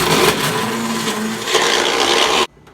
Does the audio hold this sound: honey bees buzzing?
no